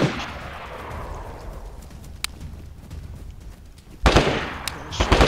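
Gunfire in the survival game DayZ, loud sharp shots cracking out near the end after a stretch of quieter outdoor ambience, with a few faint isolated pops earlier.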